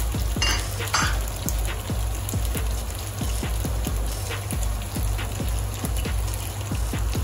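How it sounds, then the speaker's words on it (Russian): Water bubbles in a pot at a rolling boil, a low rumble broken by frequent small pops and bursts, heard up close with no voices. "Вода у нас закипает."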